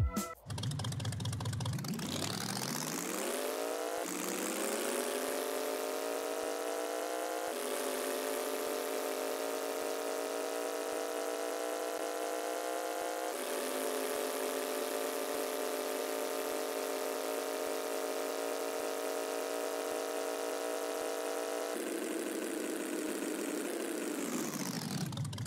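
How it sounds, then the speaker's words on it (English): A Hot Wheels Bone Shaker car engine in a video game revs up, holds a steady idle with a few small shifts in pitch, then winds back down at the end. "Here's a full demo of the engine audio."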